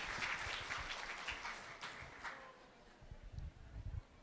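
Audience members at a seminar applaud the speaker, a faint, somewhat distant patter of clapping that gradually thins out, with a few louder scattered claps and low murmurs near the end.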